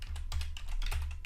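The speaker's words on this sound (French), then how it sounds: "je vais taper Chrome" Close, quick keystrokes clatter on a computer keyboard in a short burst of typing, with several crisp taps and no voice.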